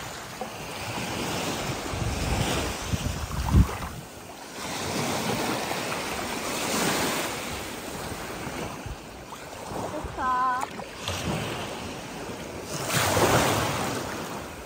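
Sea waves roll in and wash up at a beach in surging swells under gusting wind buffeting the microphone, with a brief faint voice partway through.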